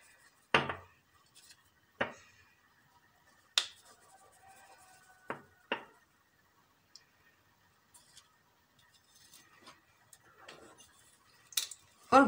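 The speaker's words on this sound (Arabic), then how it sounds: "ونبدا نخلط بواحد سباتيل، نبدا نخلط من التحت للفوق، انايا كنخلط" Sponge cake batter with sifted flour being folded by spatula, heard as sparse scattered clicks and taps against the bowl, a handful of sharp ticks spread out over a quiet background with no talking.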